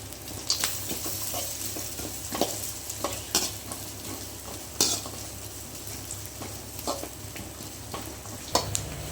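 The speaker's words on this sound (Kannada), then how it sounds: "ತುಪ್ಪ ಕರಗಿದ ನಂತರ ಕಟ್ ಮಾಡಿದ ತೆಂಗಿನಕಾಯಿ ಹಾಕುವ. ಒಳ್ಳೆ ರೀತಿಯಲ್ಲಿ ಫ್ರೈ ಆಗಲಿ." Cut coconut pieces fry in melted ghee, giving a soft continuous sizzle with intermittent clinks and scrapes of a utensil stirring the pan, fairly quiet and without talk.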